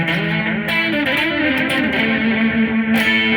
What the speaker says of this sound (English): We've got analog delay.